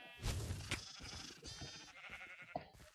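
Several sheep in a video game bleat in overlapping, wavering cries, some closer and louder, others fainter, with a busy clustered rhythm.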